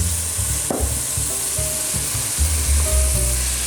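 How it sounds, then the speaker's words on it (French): Broth splashed into a hot pan of crépinette sets off a loud, steady sizzle that fills the whole stretch, with a sharp crackle near the start and soft stirring scrapes underneath. "vous prenez le bouillon, un petit peu de bouillon, c'est juste pour déglacer un petit peu"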